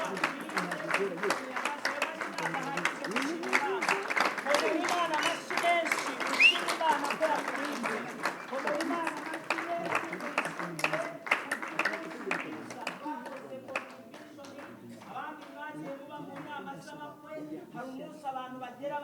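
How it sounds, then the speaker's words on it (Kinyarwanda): Congregation at a church wedding clapping in a dense, rhythmic burst that thins out toward the end, with voices heard over the clapping. "tugukomeye amashyi menshi"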